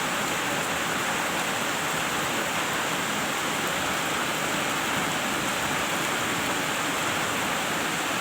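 Steady rain pours down in a continuous, even broadband hiss, loud and close throughout, with no voices.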